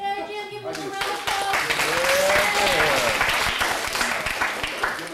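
An audience bursts into sustained applause for a speaker at a lectern event, dense clapping swelling after a brief spoken introduction and continuing to the end.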